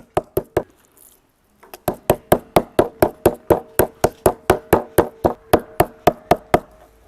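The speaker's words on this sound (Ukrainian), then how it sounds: "Тепер нам треба трішки відбити нарізані шматочки м'яса, щоб вони були рівні і тоненькі." Sliced pieces of meat are pounded thin for a layered Napoleon-style shashlik. Sharp, close knocks land in a quick run, pause for a moment, then come in a long, even, rapid series of strikes.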